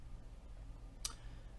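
A single sharp mouse click in a bot emulator on a computer, brief and close over a low steady background hum.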